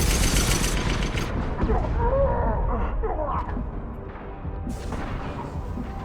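Gunfire and heavy booms in Mass Effect 2 Legendary Edition, a loud burst of shots at the start followed by rumbling impacts and scattered combat noise, with a voice calling out in the middle.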